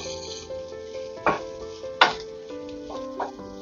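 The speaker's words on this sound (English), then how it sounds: "And then I'm just going to give it a stir" A utensil scrapes and clinks in a pan of sizzling sloppy joe meat as garlic powder, onion powder and smoked paprika are stirred in, a few distinct stirring knocks over a soft, close frying hiss, with steady background music.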